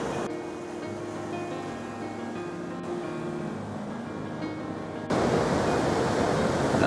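Ocean waves at a surf spot near Otaru, Hokkaido, heard as a steady broadband wash of surf with a low rumble, rising slightly louder near the end, with no voices.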